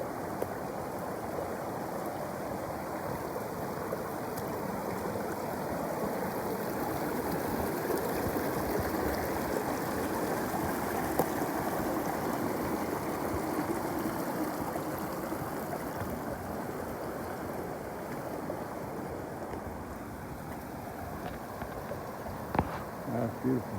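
A beautiful creek flows in a steady, soft rushing murmur for the whole stretch, close by and unbroken, with a few faint clicks near the end.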